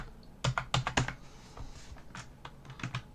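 Fingers type on a computer keyboard nearby, a few crisp separate keystrokes followed by a lighter, uneven patter of quieter taps.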